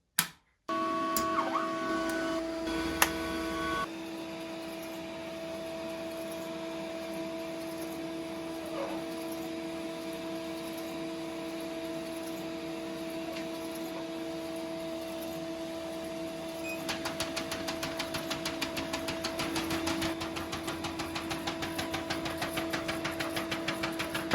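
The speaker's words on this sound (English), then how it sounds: "I'm gonna go ahead and cut the machine on and let y'all see some prints" A Lancelot M1630 Pro DTF printer starts with a thump and runs with a steady mechanical hum and whine, later joined by rapid rhythmic ticking from the moving print head, close and continuous without speech.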